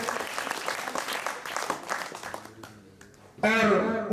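Audience at a school poetry gathering applauding to welcome a guest, dense clapping from a crowd that swells and fades, followed by a loud voice speaking at the end.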